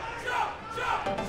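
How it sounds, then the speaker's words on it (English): Crowd at a Combo Breaker 2018 fighting game tournament yelling a taunt in rhythmic chanted bursts, rough voices rising and falling across the hall. "we got some haters in the crowd yelling out choke"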